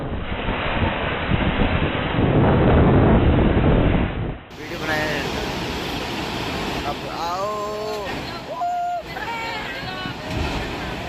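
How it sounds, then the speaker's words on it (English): Violent storm winds tearing across Thailand roar and buffet loudly, with a dense rumbling gust filling the first few seconds, then continuing wind noise with voices and shouts breaking through. "Violent winds from a massive storm swept across Thailand"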